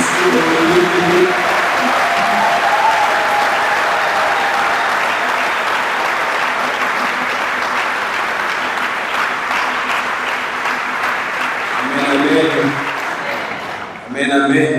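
A congregation claps steadily through an Ash Wednesday service at St Dominique parish church, sustained dense applause with voices and singing mixed in and brief chant-like calls near the end.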